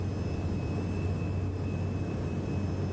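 Jet engines of an E-Jet airliner spool up at takeoff throttle in MSFS 2020, a steady, dense roar with a faint high whine, continuous and close, with no talk.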